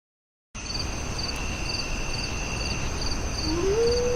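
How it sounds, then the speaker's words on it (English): Crickets chirp steadily in a quiet night setting after a brief silent start, a close, high, even trill with regular pulsing, and a faint rising tone enters near the end. "Only the nighttime animals and crickets could be heard"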